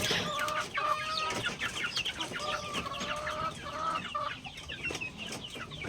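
Newly hatched native chicks from an incubator chirp in rapid, high, repeated peeps, a close and fairly steady chorus with slight rustling beneath.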